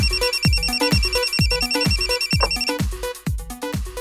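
A phone rings out on an outgoing call: a loud, steady electronic ringing pattern repeating in quick pulses, heard alone with no talking.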